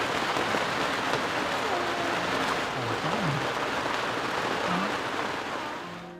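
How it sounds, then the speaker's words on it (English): Rain patters steadily on the canvas cover of a 44-foot sailboat, a soft, even hiss of drops close overhead, with a faint low tonal hum moving underneath. "Be able to sit out here in the rain and be completely dry."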